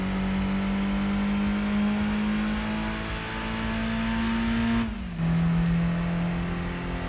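A car accelerating in the PlayStation game Gran Turismo 2 during a 1,000-meter run: a loud, steady engine drone climbing slowly in pitch, then briefly dropping as it shifts up and continuing to pull, close and alone.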